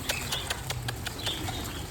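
Rapid bursts of Aseel chickens flapping their wings, repeated in quick irregular beats against a low steady rumble, fairly close.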